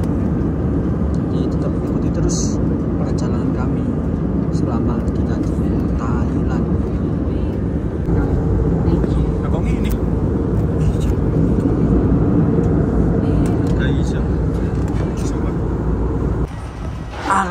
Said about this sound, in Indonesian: Kita mendarat dengan selamat.